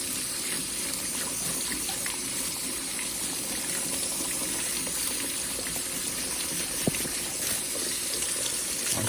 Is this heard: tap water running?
yes